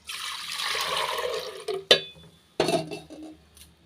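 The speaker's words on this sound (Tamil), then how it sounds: "இப்போ பாத்திரத்தில் ஊற்றிக்கலாம்." Pearl millet (kambu) milk pours into a cooking vessel in a steady rushing stream for nearly two seconds, followed by a sharp clank and a few softer splashes and knocks.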